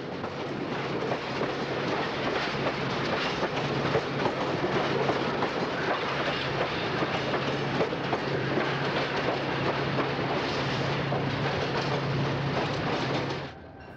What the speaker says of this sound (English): the three-car GM&O commuter train clatters over the diamonds and heads for its tiny coach yard